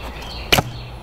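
An arrow loosed from a 1977 Bear Archery Tigercat recurve bow gives one sharp, loud snap and thump that dies away quickly over a quiet outdoor background.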